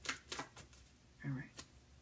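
Tarot cards being shuffled by hand during a card reading, a few quick papery riffling bursts close by, with a short voiced sound partway through.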